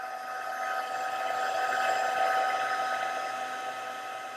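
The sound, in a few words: heat gun melting silver embossing powder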